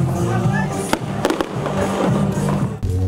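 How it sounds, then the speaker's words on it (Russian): Fireworks salute volleys crackle and pop at a New Year tree lighting, with several sharp bursts over a continuous crowd murmur and a voice speaking over the scene. "На арке новой сцены засверкал фейерверк, а в небе раздались залпы салюта."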